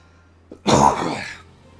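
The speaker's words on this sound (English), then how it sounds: "Had to cough." A single harsh, close cough, loud and abrupt, against a quiet background hum.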